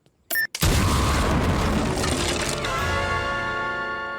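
A cartoon explosion blows up a house: a short stutter of noise, then a sudden heavy boom that bursts out loud and rumbles on with ringing debris and a slowly fading tail.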